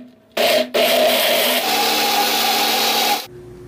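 A blender starts abruptly, grinds soybeans with a little water loudly with a brief stutter, then whirs steadily for a few seconds before cutting off into a fading hum.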